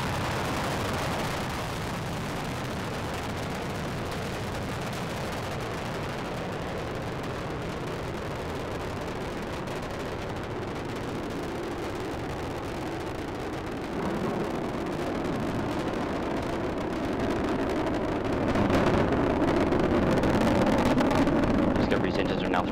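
Space Shuttle Discovery rocket roaring through ascent on its final launch, STS-133, a continuous broad rumbling blast heard from a distance, swelling louder near the end, with a commentator speaking over it.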